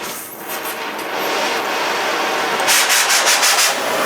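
A cutting tool grinds through the inner steel sleeve of a rear suspension bushing on a Subaru, a harsh, close abrasive rasp that swells and then pulses in short bursts toward the end.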